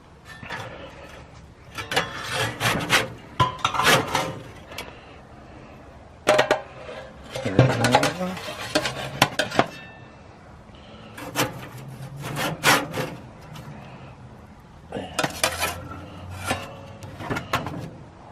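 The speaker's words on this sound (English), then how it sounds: "They're going to get wrapped up in a foil, in a tray." Aluminium foil crinkles and rustles around smoked pork for pulled pork as it is wrapped up in a tray, heard close up in irregular bursts of handling with short pauses between.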